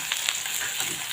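Onion, ginger and garlic paste frying for a chicken butter keema, a bright, close sizzle with a couple of quick stirring scrapes over about a second.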